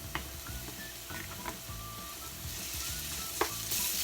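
Asparagus sizzling steadily in a hot pan, a continuous frying hiss with occasional sharp pops and crackles, no voices.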